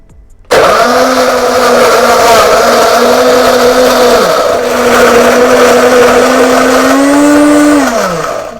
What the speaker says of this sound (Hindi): अब इसको अच्छी तरह से ग्राइंड कर लेंगे।